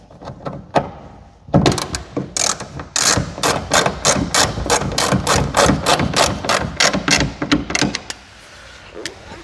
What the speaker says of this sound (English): I'm just tightening up the last one of the screws